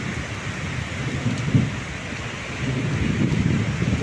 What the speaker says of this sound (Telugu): గాలి చాలా గట్టిగా వస్తుంది.